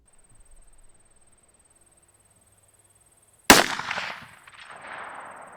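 A single sharp gunshot from a Taurus revolver with a 4-inch barrel, fired outdoors at a 200-yard target, cracking loudly after near silence and trailing into a decaying echo.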